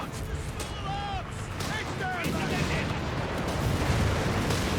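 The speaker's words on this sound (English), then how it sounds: "Reinforcement artillery firing down here on the Allied positions east of Pachino" Reinforcement artillery shelling Allied positions in Company of Heroes 3, with rumbling blasts and crackling fire layered over a busy battle din, steady and fairly loud, while a voice talks over parts of it.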